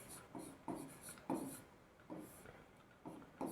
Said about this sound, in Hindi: चलिए यहाँ लिखते हैं